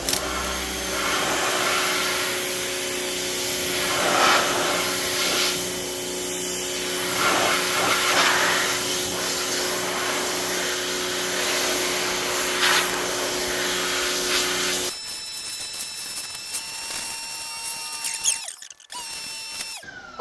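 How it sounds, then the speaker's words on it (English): A pressure washer fitted with a 25-degree tip sprays steadily in a garage, its loud, continuous hiss and motor drone running unbroken for about fifteen seconds before cutting off, leaving quieter mechanical clicks and rattles. "Switches off on the pressure washer."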